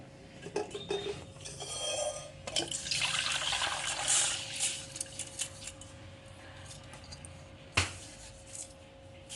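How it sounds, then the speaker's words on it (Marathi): Water drains from soaked, rinsed pearl millet in a sink, trickling and splashing unevenly with a few brief clinks, fairly close and moderately quiet. "हिला आपण आता हिचं पाणी निथळून घेणार आहोत"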